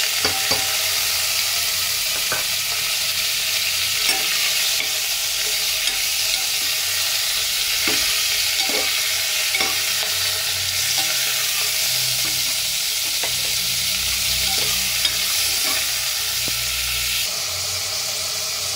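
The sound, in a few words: pork sautéing in a pan for sinigang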